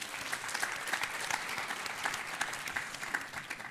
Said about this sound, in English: let's give the new three newcomers a round of applause.